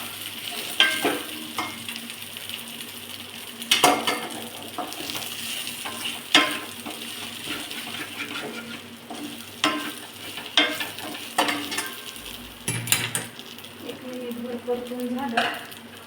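Stuffed okra being stir-fried in a pan, a steady sizzle broken by repeated scraping and stirring strokes at uneven intervals, close and fairly loud with no talking.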